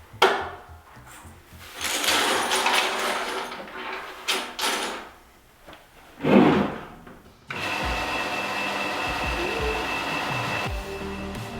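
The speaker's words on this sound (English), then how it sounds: "the belt sander fires into life" An old, rarely used belt sander starts up after scattered knocks and handling noises, then runs with a steady, loud whirring drone for the last few seconds.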